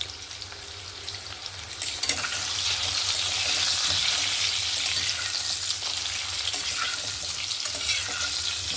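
Potatoes sizzle steadily in hot oil with a little salt and turmeric, a dense hiss that swells slightly after the first two seconds and holds close and loud throughout, with no talk.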